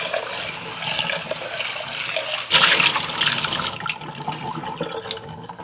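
Water runs and splashes while a pan is rinsed out after scrubbing with a Scrub Daddy sponge, a steady close gush that surges louder midway and then tapers slightly.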